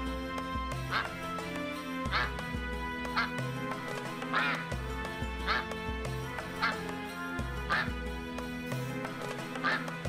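A duck in Gryphon Knight Epic quacks repeatedly in a steady, loud rhythm over a looping game music track, roughly every second or so.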